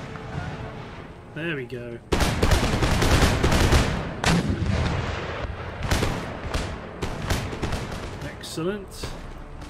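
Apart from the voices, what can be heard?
musket volley fire in Empire Total War video game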